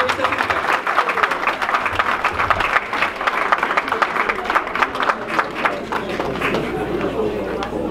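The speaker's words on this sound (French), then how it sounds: "Applaudissez quand même les gars" Audience clapping at an official gathering of an African community association, uneven and lively, mixed with crowd noise and voices talking over it.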